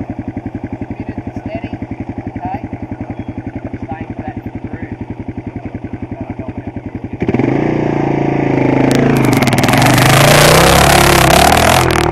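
A motorcycle on a sand training course in Braidwood idles with a steady rhythmic thump, then throttles up loudly to climb a sand hill, its engine roaring and straining close by.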